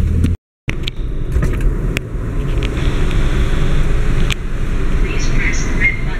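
Road traffic, a steady loud engine drone and road rumble from cars, continuous from a close position after a brief dropout at the start, with a few faint tones near the end.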